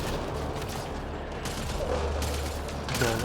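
Shotgun fire in the Mass Effect Andromeda video game, a dense, continuous wash of gunfire and combat noise that stays loud throughout, with brief bursts layered over a steady low rumble.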